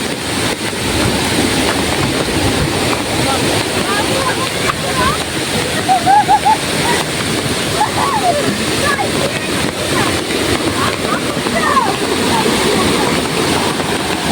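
Heavy rain pours down in a village during a windy monsoon storm, a dense, loud, steady wash of falling water with gushing runoff that continues throughout, while people talk over it.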